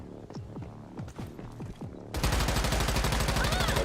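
Video game gunfire: a few separate single shots ring out, then a sustained, loud burst of rapid automatic fire that runs to the end.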